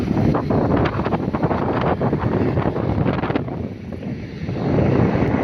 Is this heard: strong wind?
yes